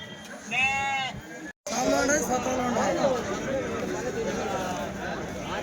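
Male goats bleat in sharp, wavering calls at a weekly goat market in Kadiri, heard close against a busy backdrop of crowd chatter and bargaining voices.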